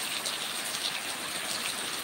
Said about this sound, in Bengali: ড্রেনে কত পানি যাচ্ছে দেখো।